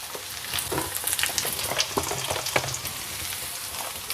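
Granola mixture with poppy seeds and dates being stirred in desi ghee over a low flame, giving a steady soft sizzle broken by scraping spoon strokes and small crackles, close by with no voices.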